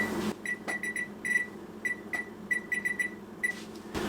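A kitchen timer beeps while coconut macaroons bake: a string of short, high, clear beeps in an uneven rhythm, close and fairly loud, with no voices.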